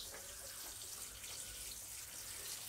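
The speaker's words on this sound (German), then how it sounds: "ordentlich Wasser eingießen." Water is poured steadily into a self-watering indoor plant pot filled with mineral substrate, a soft continuous trickling splash, close and fairly quiet, with no talk over it.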